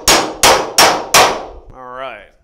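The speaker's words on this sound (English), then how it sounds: "we're gonna go ahead and take a hammer and beat this bad boy on there" Hammer beating a steel socket extractor onto a stuck bolt: four sharp, ringing metallic clangs at an even pace, close and loud, followed by a brief squeaky scrape.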